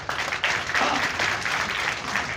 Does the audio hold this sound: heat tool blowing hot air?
no